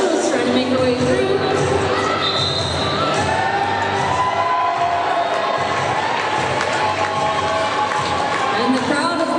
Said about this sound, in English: And the crowd is liking this